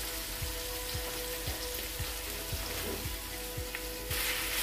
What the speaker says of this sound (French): Donc je vais rajouter ma viande hachée